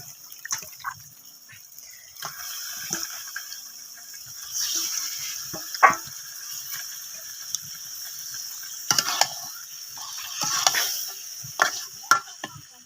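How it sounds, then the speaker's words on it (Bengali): Meat being sautéed in spiced masala, with soft intermittent sizzling, wet stirring and spoon scrapes against the pot, fairly quiet and close with no speech. "মাংসগুলো ভালো করে কষিয়ে নেব।"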